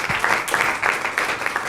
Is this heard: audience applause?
yes